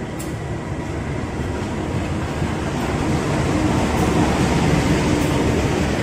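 The Motis Selatan passenger train rumbles steadily through a station, a broad continuous roar of wheels and engine that builds slightly louder toward the end.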